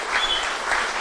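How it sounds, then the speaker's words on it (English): Audience applause at a Comhaltas traditional Irish music concert in Milltown, Rathconrath, after banjo and accordion players finish; dense, steady clapping close by that fills the whole moment without a break. "Give them a big round of applause."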